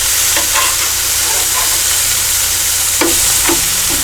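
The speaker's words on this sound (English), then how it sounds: "Bacon's almost done." Bacon fries on a Blackstone griddle, a loud, dense and steady sizzle close up with a few faint clinks of a utensil.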